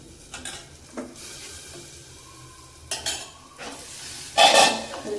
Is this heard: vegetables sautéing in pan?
yes